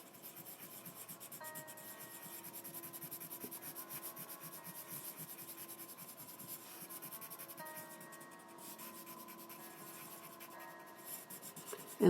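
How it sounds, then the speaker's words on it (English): A blender pencil rubs lightly in small circles over colored pencil on paper, a faint, continuous scratchy rubbing close up, with quiet background music and no talking. "That's what your blender pencil does. So, watch how this smooths out."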